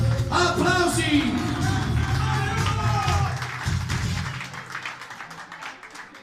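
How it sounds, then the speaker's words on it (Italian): Audience applause at a live outdoor Italian concert after a performance, steady dense clapping that gradually thins and fades. "Applausi!"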